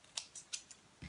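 Scissors cut card in quick short snips, about five crisp close strokes in a quiet room.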